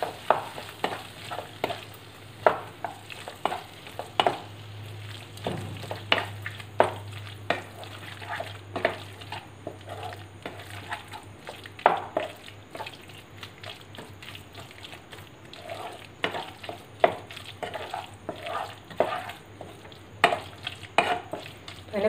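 Spiced masala for Kerala-style gobi manchurian frying in a pan and stirred steadily, with frequent sharp scrapes and clicks of the spoon over a soft sizzle and a low steady hum, close and without talk.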